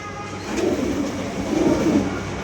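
Pigeons cooing close by while feeding on grain, two soft rolling low coos in a row over faint background noise, with no talk.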